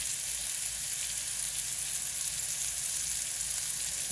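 Meat searing in a hot pan gives a steady, close sizzle and crackle that holds evenly throughout with no voices.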